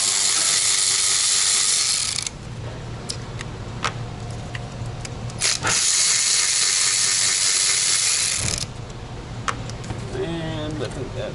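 A ratchet working bolts loose on a VW engine during crankcase vent valve replacement gives two long stretches of steady rapid clicking, close and fairly loud, with scattered knocks and a short squeak near the end.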